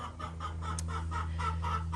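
Chickens keep up a steady run of clucking at a farm where baby goats are also kept, close and continuous for a couple of seconds, with no talking.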